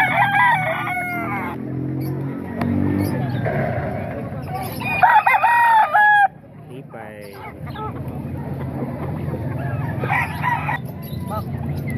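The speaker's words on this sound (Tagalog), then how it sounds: "Bali, 2 manok din to." Roosters and hens at a poultry market in Baliwag, repeated crowing and clucking, fairly close, with people talking in the background between calls.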